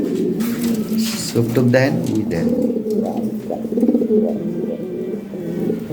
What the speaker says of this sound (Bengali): এগুলো বিগ সাইজের কবুতর।